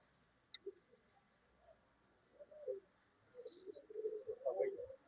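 Old line pigeons kept for sale in Bangalore coo softly, low murmuring calls that grow more frequent toward the end, with faint voices and thin chirps in the background.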